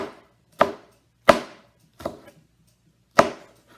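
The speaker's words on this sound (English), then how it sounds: "So I'm just chopping up my peppers." Knife blade strikes a cutting board while chopping jalapeno peppers, five crisp separate chops in an uneven rhythm, close and clear with no talking.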